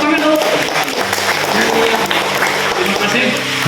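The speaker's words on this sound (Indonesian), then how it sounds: "Tepuk tangan dulu." Congregation clapping during a church service in Pulang Pisau Hilir, a dense, steady patter of applause filling the room for several seconds, mixed with voices and background sound.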